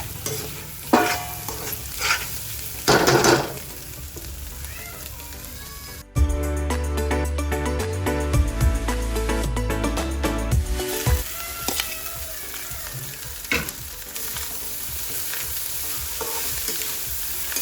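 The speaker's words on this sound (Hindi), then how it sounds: "एबे हमें ता भीतर हमार भात पकईवा" Leftover rice with fried egg stir-frying in a pan: loud scraping and stirring strokes over a continuous sizzle, with a denser, harsher burst of frying noise in the middle before settling back to steady stirring.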